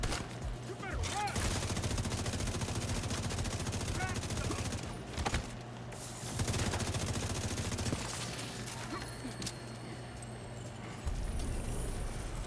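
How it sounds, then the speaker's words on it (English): Rapid, repeated gunfire in The Division 2, including shotgun blasts, rattles on almost without pause as a loud, dense barrage, with a brief lull near the middle and a fresh burst at the end. "He's sniping me with a shotgun."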